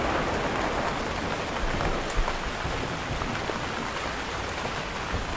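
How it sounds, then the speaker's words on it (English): Heavy, steady rain pours throughout inside the horror game Emily Wants To Play, a loud continuous hiss with dense drops and no pauses. "Why is the rain so loud?"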